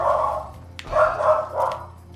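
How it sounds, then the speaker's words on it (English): A pet dog barks in the background, with three muffled, rounded barks spaced about a third of a second apart against a low indoor hum. "my dog's barking"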